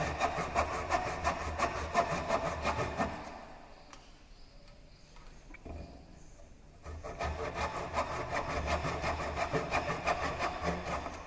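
A tenon saw cuts wood for a T-lap joint with steady rhythmic back-and-forth strokes, close and clear. The strokes stop for about three seconds midway, then resume at the same even pace.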